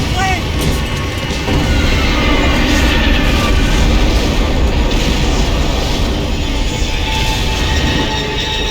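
Loud, steady roar of a plane engine in the video game Max Payne 3, with deep rumbling booms underneath, running continuously throughout while a voice shouts over it.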